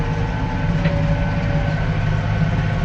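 An old Massey Ferguson tractor's heavy diesel engine rumbles steadily at close range on a dairy farm, a low droning chug with rattling mechanical noise and no talking.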